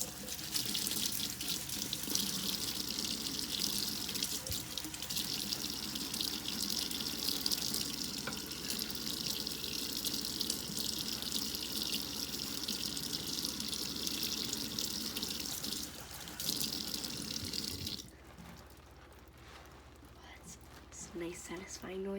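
Tap water runs into a sink in a steady loud hiss while homemade soap is worked into a loofah, then the flow stops near the end and only quieter handling and rubbing remain.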